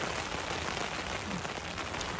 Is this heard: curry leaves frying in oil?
no